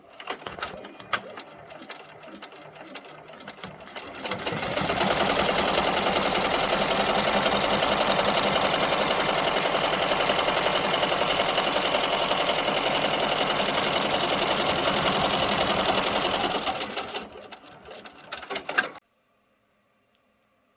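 An embroidery machine stitches a placement outline onto white glitter vinyl for a T-shirt design, a loud steady mechanical whir with a rapid needle chatter running unbroken for about thirteen seconds before stopping abruptly, with a few soft clicks after.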